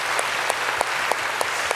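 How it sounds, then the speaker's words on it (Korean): A church audience at a talk concert claps steadily, giving a brief burst of encouraging applause with no talking over it. "우리 이들을 위해서 한번 축복과 격려의 박수 한번 해볼까요?"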